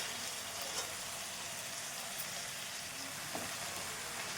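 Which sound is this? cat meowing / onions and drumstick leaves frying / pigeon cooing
onions and drumstick leaves frying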